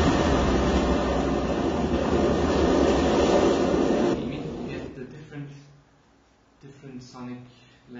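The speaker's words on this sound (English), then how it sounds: "this 20 minutes of train recordings" Field recordings of a train, a loud, steady rumbling roar for about four seconds that drops away to quieter intermittent clanks and tonal sounds, with voices underneath.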